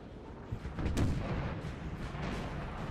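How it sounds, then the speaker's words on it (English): Artillery cannons firing across a Napoleonic battlefield in the Napoleon Total War video game, a distant boom rising from a dense rumbling background of battle, with further muffled fire continuing throughout. "They seem to be wanting to cannonade."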